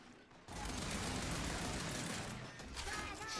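Rapid gunfire in the shooter game Gears 5 during a ranked Control match, a dense, sustained burst of overlapping shots with mechanical clatter, fairly faint overall.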